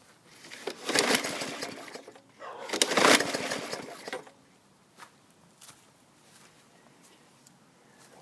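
Craftsman or Toro Recycler lawn mower engine firing, two loud bursts of sputtering engine noise a couple of seconds apart, then dying away into quiet with a few faint knocks.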